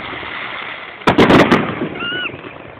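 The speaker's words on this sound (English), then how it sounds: "Fireworks fireworks." Fireworks exploding outdoors: a quick cluster of loud, sharp bangs and crackles, followed by a brief rising whistle, over faint background noise.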